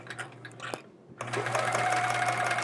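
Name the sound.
sewing machine doing free motion quilting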